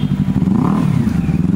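A Honda motorcycle engine in Japan revs with a thick, throaty low rumble, sustained and fairly loud close by, with people talking over it.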